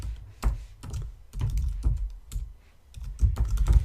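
Close, clear typing of code on a computer keyboard: bursts of key taps in uneven clusters with brief pauses, steady and fairly loud, no voice over it.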